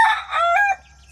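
A single hen in a chicken coop lets out one loud, close, drawn-out squawking cluck lasting under a second, alone with no talk.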